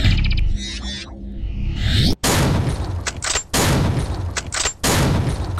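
Shotgun blasts in a first-person shooter video game, with loud booming reports and reload clicks between them, several shots in quick succession and no talking.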